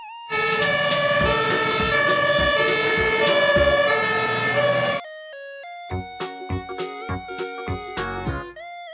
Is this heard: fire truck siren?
yes